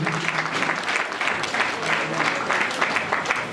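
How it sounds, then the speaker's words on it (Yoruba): An audience at a Yoruba-language cultural talk claps steadily throughout, a dense, sustained patter of many hands at moderate volume with no voices over it. "Ẹ jọ̀ọ́ bá fún ọ ní àtẹ́wọ́ lẹ́ẹ̀kan sí i."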